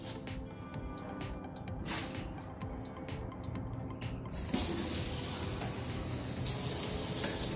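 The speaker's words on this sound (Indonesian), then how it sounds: "Oke, gue bakal tunjukin ya kalau air keran ini bisa diminum." Tap water runs from a faucet in a home in Australia, a steady hissing stream close by that grows a little louder and brighter partway through, with no talking over it.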